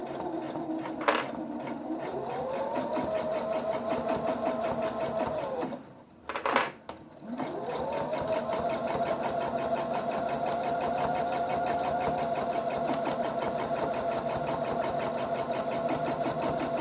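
A sewing machine stitches fabric for kitchen towels, a steady, close mechanical whir that stops briefly in the middle with a few clicks before running on evenly again.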